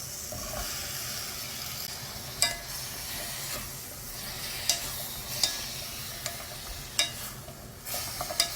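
Radish stir-fried in a pot while making beef radish soup: a steady sizzle and hiss runs throughout, broken by sharp scraping clicks of a utensil every second or two, with no voices.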